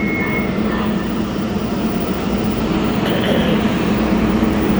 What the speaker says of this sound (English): It is the coolest train.